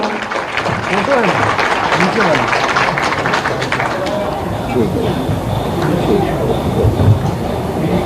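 Loud applause fills a hall at a Madhya Pradesh government event for people with orthopedic disabilities, with a dense, continuous roar of clapping. Voices and crowd noise mix in underneath.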